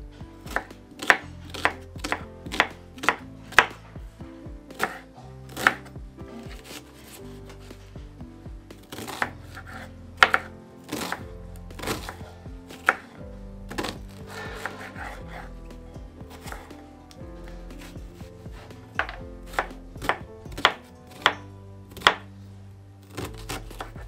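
Onions being chopped for a beef dish make crisp, rapid knife strokes on a board, coming in quick bursts separated by short pauses.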